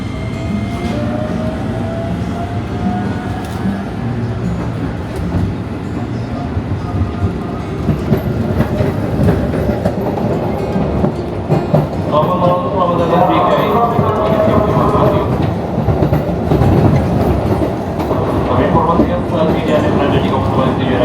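A Japanese-built commuter train running, heard from on board: a loud, continuous rumble with rhythmic clickety-clack over the rails, rising toward the end, with voices speaking over it.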